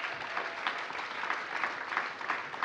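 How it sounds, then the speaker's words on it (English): Audience applause for the mayor at a DC Emancipation Day democracy champions breakfast: steady, dense clapping from a room of people, sustained at even loudness throughout with no talk over it. "So let's give the mayor a big round of applause"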